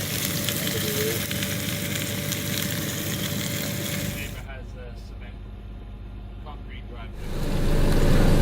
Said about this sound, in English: Got to have bacon on the burger, so I'm even going to run my skillet and run some bacon here.